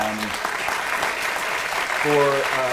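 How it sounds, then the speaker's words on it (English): Audience applause for staff fills a university symposium on psychedelic neuroscience and therapy, a steady dense wash of clapping, with a speaking voice heard briefly at the start and again near the end. "ask you to join me in a round of applause for"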